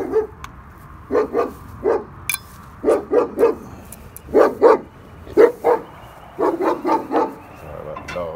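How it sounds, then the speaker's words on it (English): A dog barks in short clustered bursts, loud and close, with brief pauses between volleys, in a garage or driveway setting during trailer brake drum work. "Sorry about the dog."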